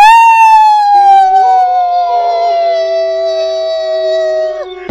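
A loud, rising and falling howl in layered siren-like tones sweeps on for several seconds, then cuts off abruptly.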